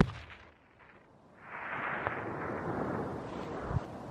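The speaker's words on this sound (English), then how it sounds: "Shoot him again, Hayden." Rifle shot fired while hunting Himalayan tahr in open mountain country, a single sharp report near the end that stands out over a steady band of wind or rushing noise, with a weaker muffled thump earlier.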